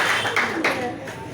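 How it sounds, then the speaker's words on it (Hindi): Students clapping in a coaching classroom, a short burst of several hand claps mixed with voices talking over them. "चलो ताली बजाओ।"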